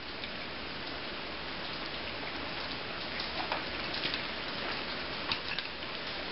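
Steady rain falls outdoors on an open firecraft site, a constant soft patter with scattered louder drips ticking through it.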